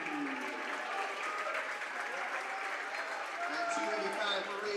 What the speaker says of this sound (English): Nice crowd here tonight here at North Hunterdon High School with a filled up North Hunterdon side.